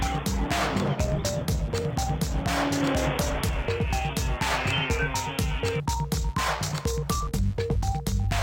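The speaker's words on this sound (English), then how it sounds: "Let's drive the BMW M5 and check the tech." A 2013 BMW M5 drives with a continuous engine note and shifting pitch, with tire noise and a steady roar throughout, sounding close and loud.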